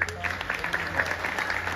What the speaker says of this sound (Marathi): शुभेच्छा रूपी आपण त्यांना टाळ्या देऊयात.